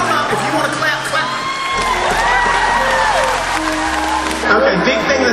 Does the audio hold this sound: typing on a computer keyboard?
no